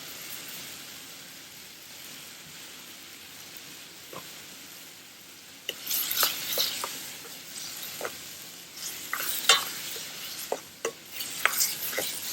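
Mushrooms sizzle and fry in a hot pan for a balti, a steady hiss with scattered crackles and stirring scrapes that grow busier toward the end.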